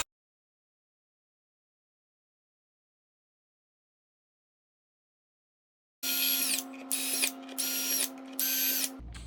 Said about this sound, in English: get a nice thin, small drill and run it right down those holes